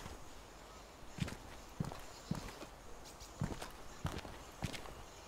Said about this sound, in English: I can hear his footsteps though.